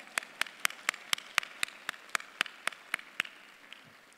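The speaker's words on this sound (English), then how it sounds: "You can go ahead and clap," At a university honors convocation, a single pair of hands claps about fifteen times in a steady, even rhythm, close and distinct against a quiet room, fading out near the end.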